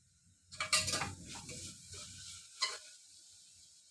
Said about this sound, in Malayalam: ഇച്ചിരി കറിവേപ്പിലയും മല്ലിയിലയും ഇട്ട് കൊടുക്കാം.